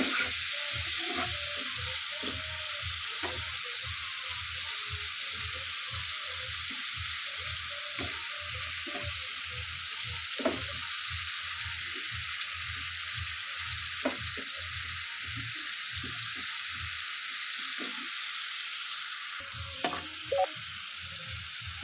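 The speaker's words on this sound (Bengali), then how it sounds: "ওর সাথে একটু জল অ্যাড করে দেব। মশলাটা ভালো করে কষে নেব।" Spice paste thinned with a little water sizzles steadily in a pan for a mustard fish curry, with a regular rhythm of stirring strokes scraping through it close by and no one talking.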